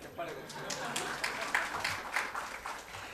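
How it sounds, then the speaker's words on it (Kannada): An audience claps at a Kannada comedy and literary stage event. A scattered round of applause rises and falls while a voice keeps speaking over it. "ಅಲ್ಲ, ಚಪ್ಪಾಳೆ ಹೊಡೀಲಿ."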